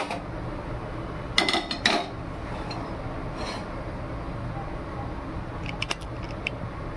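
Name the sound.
placing a kadhai (wok) on the gas stove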